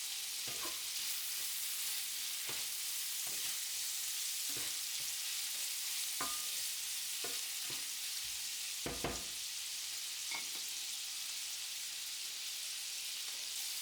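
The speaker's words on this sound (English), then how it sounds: "add the diced bacon and sauté it until it releases its flavor" Diced bacon sautés in melted lard in a pan, giving a steady, even sizzle throughout with occasional sharper pops and crackles rising above the frying, and no talking.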